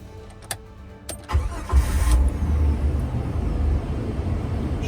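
A 20-year-old Jeep Wrangler with a 4.0L engine cranks after a few clicks and brief pauses, catches with a burst, then settles into a steady, loud close idle.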